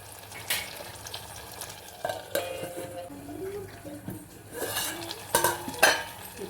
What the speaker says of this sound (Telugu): ఒక 2 నిమిషాలు దీన్ని నూనెలో ఉడకనివ్వాలి